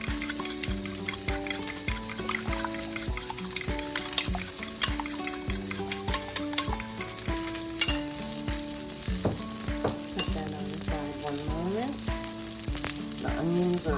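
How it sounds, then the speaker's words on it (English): Onions for a spicy omelette sizzling in a pan, a steady close crackle of frying with stirring and clinking from the cookware, while music plays over it. "Just mix them up while the onions are frying."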